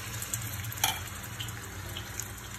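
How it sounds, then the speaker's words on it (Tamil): Hot oil sizzles and crackles in a frying pan as fish is fried for a Tamil fish sambal. The close, steady frying hiss carries a few sharper pops. "இந்த எண்ணெயில் அந்த மீனெல்லாம் போட்டு பொரிச்சு எடுத்துப்போம்."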